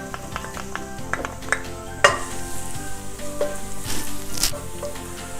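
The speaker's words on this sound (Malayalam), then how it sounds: "ഒരു പാനിലേക്ക് കുറച്ച് ഓയിൽ ഒഴിച്ചു കൊടുക്കുക. പിന്നെ നമുക്കതിലേക്ക് വെളുത്തുള്ളി, ഗാർലിക് ചെറുതായിട്ട് അരിഞ്ഞു വെച്ചിരിക്കുന്ന," Chopped garlic frying in oil in a pan, a steady sizzle with metallic stirring clinks and spoon taps against the pan throughout, close and alone.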